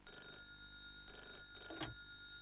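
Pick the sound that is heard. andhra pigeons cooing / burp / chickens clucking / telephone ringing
telephone ringing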